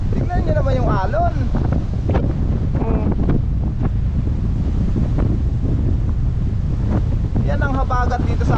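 Strong southwest monsoon wind buffets the microphone over the continuous wash of whitecapped surf, with a few brief bird-like chirps and muffled voices in the roar.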